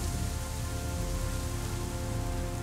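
Steady rain in the World War II naval video game Aircraft Carrier Survival, a dense, continuous hiss of falling drops that stays even and loud throughout with no other sounds.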